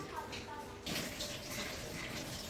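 Water running steadily during washing, a continuous splashing rush like a tap or hose, close and moderately loud.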